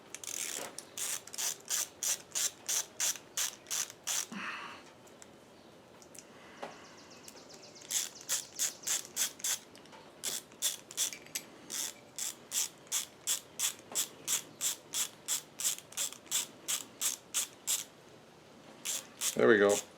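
A ratchet driving a nut along a bolt to clean its threads during a 1967 Ford Mustang 347 stroker engine build: close, crisp clicking in quick rhythmic runs with short pauses between strokes, talk in between.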